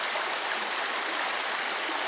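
A stream pouring over rocks, producing a steady, close, broadband rushing hiss with no pauses and no voices.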